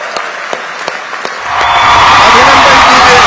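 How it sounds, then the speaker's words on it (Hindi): An audience at a startup conclave in Indore bursts into loud, sustained applause as the Prime Minister arrives, following a few sparse early claps. "तालियां बजा के स्वागत कीजिए,"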